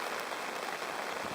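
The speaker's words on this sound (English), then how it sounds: "it feels like kind of an all-day rain" Steady rain at a cabin during a pike and walleye fishing trip hisses evenly and constantly, a soft broadband patter with no voices.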